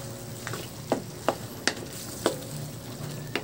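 Chicken liver and gizzard fry in a pan under a steady low sizzle, with several sharp scraping clinks as a utensil stirs the pan at irregular intervals, close up and with no talk.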